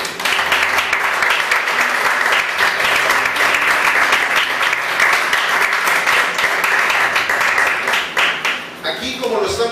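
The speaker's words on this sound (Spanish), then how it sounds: "Vamos a dar un aplauso al Rey de Reyes." A church congregation breaks into loud, sustained applause, dense clapping filling the room at full strength before thinning out near the end.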